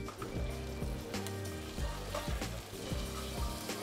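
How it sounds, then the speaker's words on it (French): Yellow carrots roasting in butter in a pan give a soft, steady sizzle with light stirring taps and clinks scattered through, close and moderately quiet, with no voices. "on va faire rôtir les carottes, on va commencer par les jaunes avec un petit peu de beurre"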